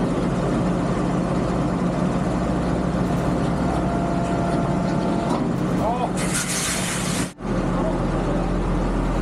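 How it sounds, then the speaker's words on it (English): A tug vehicle's engine runs steadily while pulling a generator trailer at a carnival, a loud low idling rumble with a brief hiss of air and a sharp cut-off near the end. "Once the tug and the cart's done, I pull the generator trailer round"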